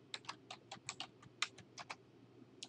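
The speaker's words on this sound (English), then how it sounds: "I'm typing in the region I'm looking for." Rapid keystrokes on a computer keyboard while entering a search term into a spreadsheet, a close, quiet run of about a dozen crisp clicks in uneven bursts, with no voices.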